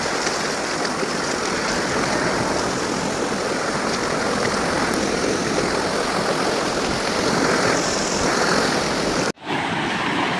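Strong floodwater rushes across a main road in Similiya, a loud, continuous broadband roar of flowing water heard up close and alone, with a brief dropout near the end.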